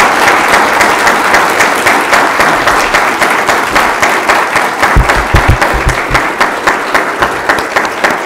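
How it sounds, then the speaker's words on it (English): A lecture audience at a law school gives hearty applause to students and a former U.S. ambassador: loud, close, sustained clapping with many distinct hand strikes, continuing steadily for over eight seconds. "give a hearty applause to both the students that put this together and especially Ambassador Graham"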